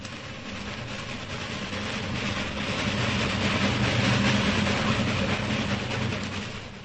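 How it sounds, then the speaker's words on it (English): A train roaring through the night, a steady low rumble and rattle of cars that builds to a peak and then eases slightly, heard alone without voices. "He hears a train roaring through the night."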